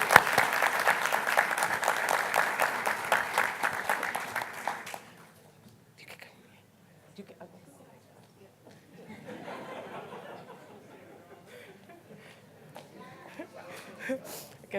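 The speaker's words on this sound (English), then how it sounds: "let's give her another round of applause." Applause for a high school student artist at a school board meeting, a dense burst of clapping for about five seconds that fades into soft chuckles and murmured chatter from the room.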